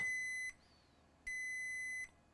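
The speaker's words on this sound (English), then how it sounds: "Let me quickly measure in diode mode. And look at this, we have a short." A multimeter in diode mode beeps continuously while probing a short on a 7900 XTX graphics card under repair: two steady electronic tones of about three-quarters of a second each, separated by a brief pause, loud and close with no talk.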